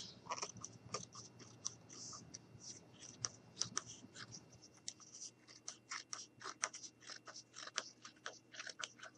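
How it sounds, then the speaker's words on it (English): Scissors trimming off extra felt for a piggy bank craft, with a close, quiet series of irregular snips and rustles running throughout. "I'm just going to go ahead and trim off the extra that I didn't need."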